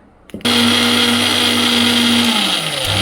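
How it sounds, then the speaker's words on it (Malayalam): A mixer grinder blending spinach soup starts abruptly and runs loud and steady, its motor whine holding for a few seconds before dipping slightly near the end. "ഞാൻ ഇനി മിക്സിയിൽ അടിക്കട്ടെ"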